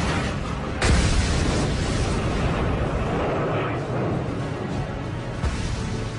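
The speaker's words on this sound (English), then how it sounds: "I paused in wonderment, and then heard an explosion." An explosion during a wartime reenactment of an RAF Typhoon attack on a tank crew: a sudden loud blast followed by a sustained rumbling roar that stays heavy and dense throughout, with a second smaller burst near the end.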